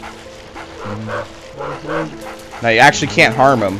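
Cartoonish dog barks and yips from the Big Dog in Luigi's Mansion, a short burst of several close, loud barks near the end, with people talking over and between them throughout.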